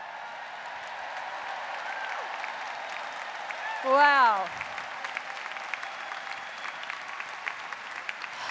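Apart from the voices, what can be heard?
audience applauding first-time delegates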